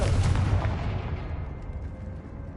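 Confringo explosive spell going off in a Harry Potter video game, a single heavy blast at the start with a deep boom that decays into a fading rumbling tail.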